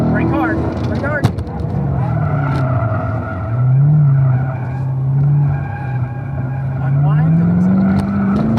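A car braking hard during a driving school session, its tires skidding with a sustained squeal that rises and falls against a steady engine drone, close and loud, while an instructor speaks over it.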